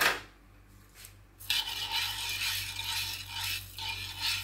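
Sticky rice and coconut milk for biko are stirred in a pot, giving soft, wet scraping and rubbing strokes in uneven bursts after a quiet start, close and modest in volume.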